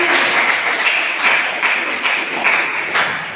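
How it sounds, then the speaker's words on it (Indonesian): University students in a classroom clapping together at a teacher's request, a loud, dense, continuous patter of applause close by. "Tepuk tangan dulu kita dari mahasiswa"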